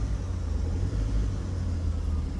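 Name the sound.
loaded vehicles moving slowly on a flood-damaged mountain road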